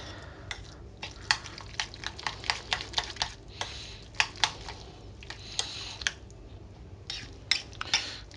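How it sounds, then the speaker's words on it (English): A utensil mixing avocado in a bowl for tofu burgers, a run of quick irregular clinks and taps against the bowl, close and moderately loud, with soft mashing between strikes and no talk. "Give it a good mix, and you'll see the avocado starting to break up"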